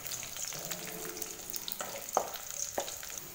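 A whole green chili sizzles and crackles in hot oil for kara kulambu, a steady close frying hiss with small pops and occasional stirring clinks.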